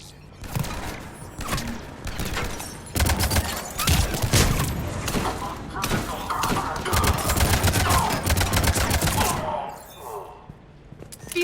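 Sustained gunfire in a Mass Effect 3 battle, dense rapid volleys of sharp shots and thumping impacts that rise and fall for most of the stretch before easing near the end.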